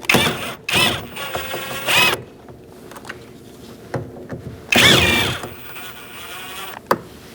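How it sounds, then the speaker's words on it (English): 10mm socket on a ratchet or power driver backing out mirror bolts on a 2004–2012 Chevrolet Colorado: two separate bursts of buzzing, whirring rotation, each a couple of seconds long, with quiet gaps and a few small clicks between. "I'm going to use a 10mm socket to remove these 3 bolts."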